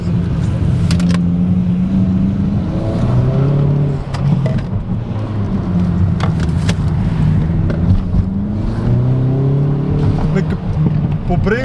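A car engine drones loudly from inside the cabin while driving, its revs rising and falling in waves as people talk over it.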